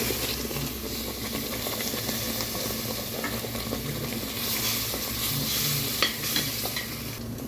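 Ground masala for a sardine curry being stirred in a hot pan, a steady sizzle and frying crackle with scraping spoon sounds, close up and continuous.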